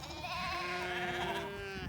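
A single sheep on a dairy sheep farm gives a drawn-out, wavering bleat that lasts nearly two seconds, close and clear over faint barn background noise.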